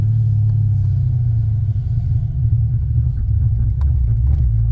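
A heavy car of about 5,000 pounds, fitted with a roll cage and harness bar, idles with a steady, loud low rumble close by and no talk.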